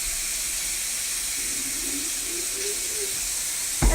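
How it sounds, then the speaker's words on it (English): Really hot water runs steadily into a jug at a sink, a continuous hissing, splashing flow with a faint rising tone as the jug fills, ending in a brief louder knock. "Okay, I'm going to use really, really hot water in this jug."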